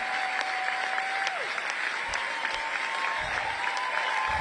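Audience at CPAC clapping steadily through a political speech, a dense, even patter of many hands filling the room, with a faint tonal whistle or feedback line running underneath.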